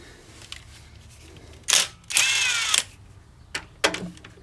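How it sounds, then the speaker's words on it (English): A cordless impact wrench works on a John Deere 70 skid steer in short bursts: a brief buzz, a longer whirring run of about half a second, then a few quick clicks and a final short burst, with no talking. "I left my cordless impact on there"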